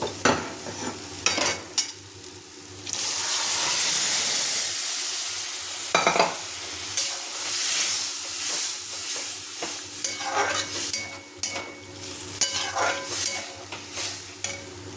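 Kidney beans tossed into frying spice masala in oil, a loud burst of sizzling followed by repeated scraping stirs and clinks of the spoon against the pan, with the hiss continuing underneath.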